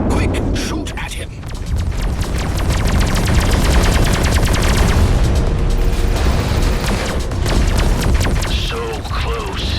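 Space-combat gunfire in Everspace 2 while shooting at an enemy, a dense rapid stream of shots and booms at loud, constant intensity with no pause.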